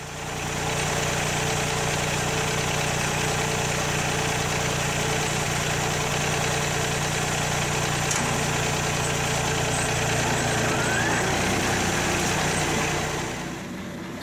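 A tractor engine runs at around 1,000 RPM with the PTO engaged to drive a brush hog, a steady close drone that dips in pitch near the end.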